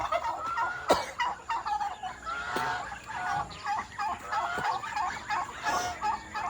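Chickens cluck and call repeatedly around a backyard poultry coop beside a vegetable garden, a busy overlapping chorus at close range with a few sharp squawks and honking notes, no talk.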